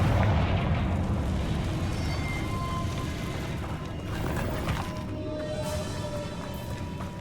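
Confringo explosion spell in Hogwarts Legacy, a dense continuous rumbling blast roar filling the whole stretch, loud and sustained with booming bursts layered over a low-end rumble.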